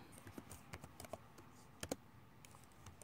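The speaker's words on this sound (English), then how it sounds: "And I'll just type something there." Quiet, scattered keystrokes on a computer keyboard while a word is entered into a Microsoft Word document, a few sharp clicks standing out amid softer taps, with no talking.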